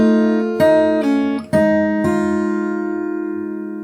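Fingerstyle guitar plays the next phrase of a song as four plucked notes and chords in a steady rhythm, close and bright. The last one rings out and fades, with no talking.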